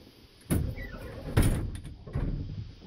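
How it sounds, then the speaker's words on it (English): The door of a 1999 Bluebird bus with a 5.9 Cummins diesel is pulled shut, giving a few close, sharp knocks and a rattling slide over about two seconds, with no talking. "Let me shut the door so we can keep the cat in here."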